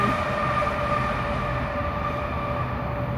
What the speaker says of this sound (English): sorry, it's a train.